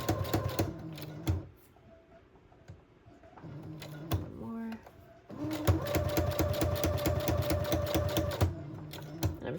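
A sewing machine stitching through layered transparent craft tags, with a rapid steady needle clatter in two runs separated by a quieter pause of fiddling and small clicks, close and loud.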